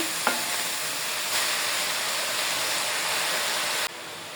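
Leafy greens hit a hot oiled pan with a loud, continuous sizzle, with a clatter as they drop in and steady stirring; the sizzling runs throughout and drops sharply just before the end.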